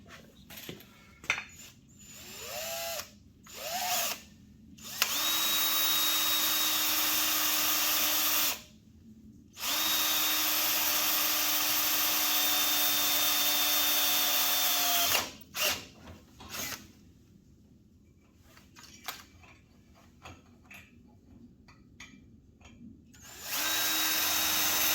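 A power drill bores a hole in repeated bursts, whirring loudly for several seconds at a time with clicks, short pauses and faint handling noises in between.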